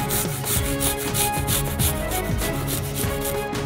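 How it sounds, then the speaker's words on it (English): A large garlic clove is rubbed against a kitchen grater for a yogurt sauce, giving quick repeated scraping strokes, close and fairly loud, with no talking. "Grate a large clove of garlic on a grater."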